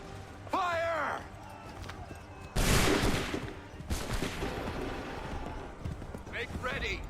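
Musket volley fired on command during an American Revolution battle, a sharp loud burst of gunfire followed by a crackling rolling spread, with shouted voices before it and hooves and commotion around.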